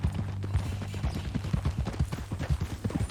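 Horse hooves walking in Red Dead Redemption 2, a steady rhythmic clip-clop of many close, fairly loud hoof falls in an even gait with no talk over them.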